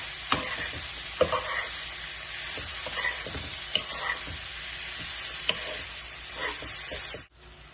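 Flattened rice upma being stirred in a hot pan, a steady sizzle and fry hiss running throughout with periodic scraping knocks of the spoon against the pan, close and fairly loud, no talk.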